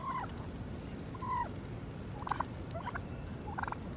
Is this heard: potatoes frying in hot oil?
no